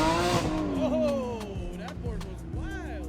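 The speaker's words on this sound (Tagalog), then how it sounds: "grabe dito yung purple na Porsche guys, sumarurot dito, ganda ng exhaust niya men" A purple Porsche revs its exhaust at a car meet, the engine note rising and falling in several quick sweeps nearby, with voices in the background.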